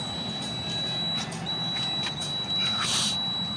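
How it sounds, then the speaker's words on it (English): A fuel pump alarm gives a steady high-pitched electronic tone with a short break, over rumbling outdoor background noise at a gas station. "It's like an alarm is going off."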